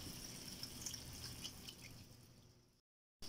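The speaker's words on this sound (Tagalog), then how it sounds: "Maglalagay naman tayo ng konting tubig." Water poured into a pot of chicken curry, a steady splashing trickle for under three seconds that then cuts to silence, with no voices.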